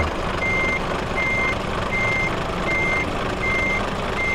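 Truck reversing alarm in Euro Truck Simulator 2, six evenly spaced electronic beeps over a steady diesel engine rumble while the truck backs into a parking spot.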